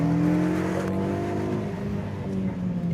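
A Ford Focus RS accelerates hard on a deserted Spanish mountain road, its engine note rising and surging with a loud, close, rasping roar that fades a little as the car pulls away.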